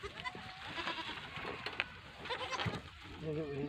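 Goats on a goat farm bleat in scattered short calls, fairly close, over a noisy outdoor background.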